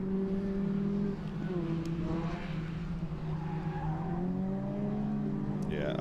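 Supercharged rallycross cars racing at Mondello Park, including a Cooper S, engines droning loudly and steadily with tire skids and squeal as they push through a corner, close and continuous.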